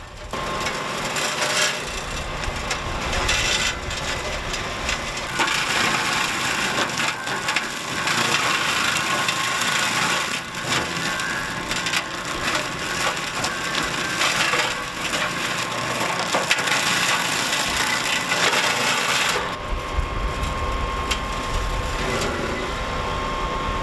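A continuous loud grinding roar of brush being crushed and splintered, with woody cracking and rasping throughout, easing briefly near the end.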